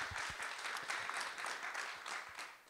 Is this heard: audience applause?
yes